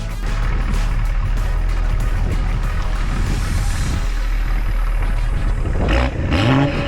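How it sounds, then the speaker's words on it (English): A BMW B58 engine's exhaust, stage 2+ tuned, drones steadily at about 3000 rpm, a loud continuous rumble close by, with a couple of brief rising revs near the end. "let's try to get a few sound clips of the exhaust, revving it up to 3000"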